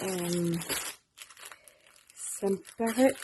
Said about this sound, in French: Je vais le déballer. Désolée pour le bruit.